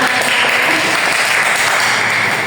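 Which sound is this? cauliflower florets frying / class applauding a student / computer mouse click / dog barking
class applauding a student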